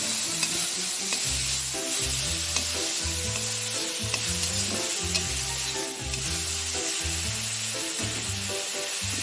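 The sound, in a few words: stirring sour duck tenga curry sizzling in a kadai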